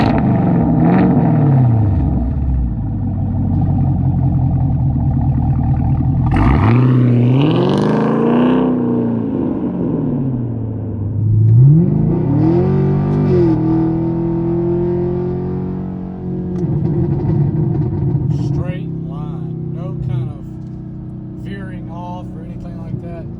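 A Chevrolet Camaro SS on cheap performance tires with wider rear tires launches hard from a standing start, its loud engine note rising and falling through gear changes across several takeoffs.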